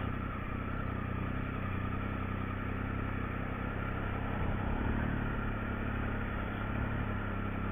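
A motorcycle creeping along very gently in first gear while held on the rear brake, a low, even engine drone that stays steady and close throughout.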